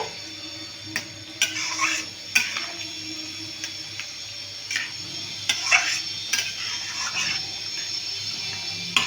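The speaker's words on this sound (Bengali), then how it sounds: "এটাকে আমি লো ফ্লেমে ভালো করে ফুটতে দেব" Chilli chicken bubbling gently on a low flame, a soft continuous simmer dotted with irregular stirring scrapes and light clinks.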